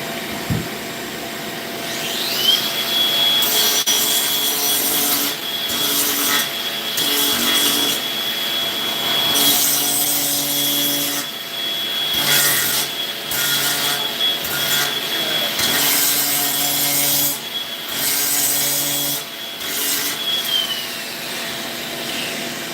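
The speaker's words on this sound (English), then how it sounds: "Maybe I could hold the grinder." A handheld grinder runs continuously for about twenty seconds with a steady high whine, loud and close, its pitch shifting slightly as it bites into the work, with faint rattling and scraping underneath; no one talks.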